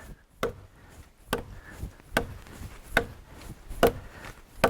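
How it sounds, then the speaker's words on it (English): A very sharp butcher knife chops into a hardwood log, sharp distinct chopping strikes landing about once a second, close and fairly loud with quiet gaps between them. "Would you imagine taking your butcher knife out and chopping a log in two?"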